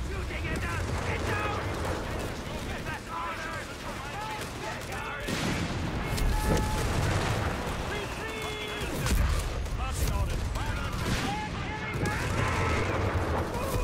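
Counter mortar barrage in Company of Heroes 3: repeated booming impacts and crackling gunfire in an ongoing battle, with a loud burst about midway and scattered shots throughout.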